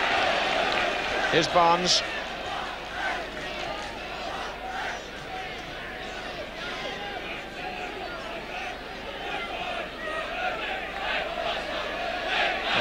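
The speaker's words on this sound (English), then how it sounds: "And the crowd fully roused now." Football crowd at a 1982/83 Watford v Brighton league match, a broad roar and chatter that rises as play pushes forward, with a commentator talking over it and a sharp whistle early on.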